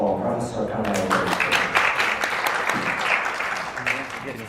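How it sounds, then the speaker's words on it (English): An audience at a Jakarta lecture on entrepreneurship breaks into applause welcoming a professor, a sustained dense clapping that swells after a brief voice at the start and continues steadily to the end. "Please welcome and give a round of applause for Professor Carmelo."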